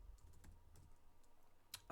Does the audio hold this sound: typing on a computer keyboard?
yes